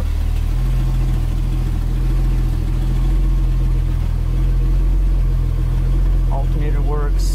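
A Datsun 280Z engine idles in a steady, loud low drone throughout, with a brief faint chirp near the end.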